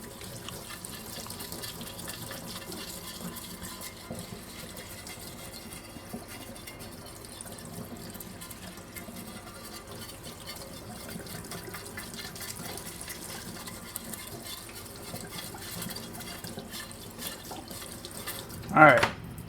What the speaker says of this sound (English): so I'm gonna have to rinse my plate